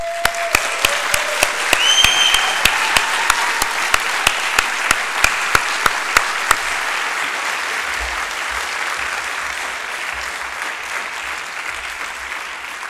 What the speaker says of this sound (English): I just want to do a collective big round of applause for Klimis.